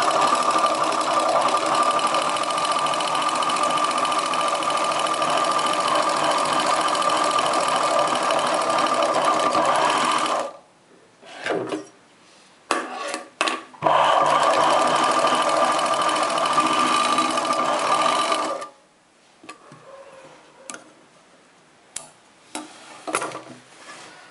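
A sewing machine stitches a chudidar top in two long, steady runs of rapid whirring, each broken off into brief stop-start bursts and quiet pauses.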